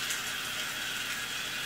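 Water runs from a Delta bathroom shower valve in a steady, soft hiss that stays even throughout, with no other sounds.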